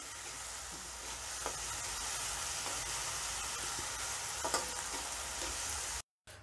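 Green chillies roast in a pan for batata paratha filling, giving a steady close frying hiss with occasional soft scrapes of stirring and no talk.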